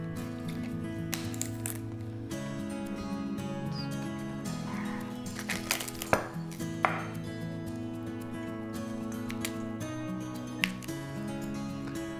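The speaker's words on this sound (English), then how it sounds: "I'm just going to be trimming off the leaves and pulling the florets off" Cauliflower being trimmed of its leaves and broken into florets in a kitchen, with scattered crisp snaps, cuts and squishy crunches over a steady low background hum.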